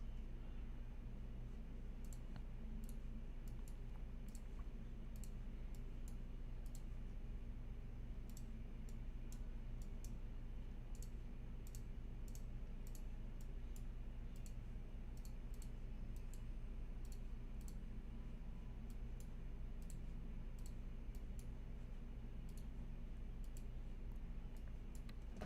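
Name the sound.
repeated computer mouse clicking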